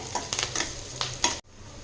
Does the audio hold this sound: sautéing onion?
yes